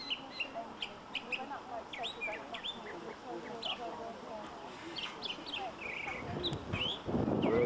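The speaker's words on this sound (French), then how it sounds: "On entend des beaux petits oiseaux là." Small birds chirp and tweet outdoors near a cable tramway on Lookout Mountain, with many quick high calls scattered throughout over a steady background murmur that swells toward the end.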